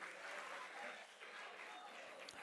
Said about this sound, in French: Est-ce qu'on peut applaudir pour Joel, s'il vous plaît